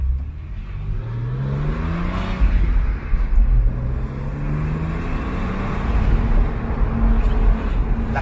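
Porsche 997 Cabriolet cruising at an easy touring pace, a steady low engine drone with gentle rising and falling revs and road rumble, heard from inside the car without talk.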